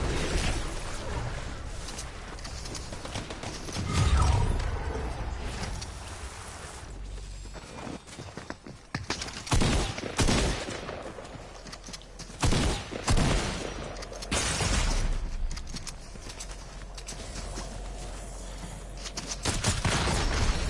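Enemy gunfire in a PS4 shooter comes in bursts of sharp cracks and rattling volleys, loud and dense at intervals over a continuous game ambience, with no talk.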